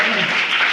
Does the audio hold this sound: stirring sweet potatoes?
no